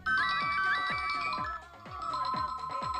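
A phone rings with a repeating electronic ringtone melody, loud and close, pulsing in regular beats for several seconds with no voices over it.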